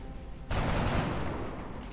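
A burst of rifle fire in the strategy game XCOM, a loud blast that rolls into a sustained, noisy rumble lasting over a second, with no talk.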